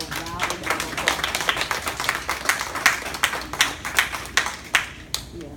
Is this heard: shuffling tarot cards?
no